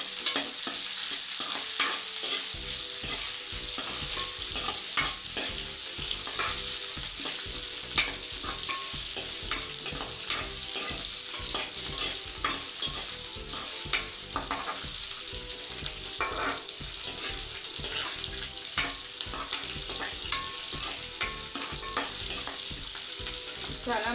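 Bitter gourd sizzles in refined oil with green chillies and curry leaves, a continuous bright frying hiss punctuated by frequent scraping stirs of a spatula in the pan, close and steady throughout with no voices.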